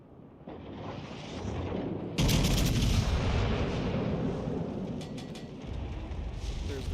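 Heavy warship rear turret salvo in World of Warships Legends, a loud sudden broadband boom at about two seconds that rolls out into a long rumbling tail, over steady game background noise.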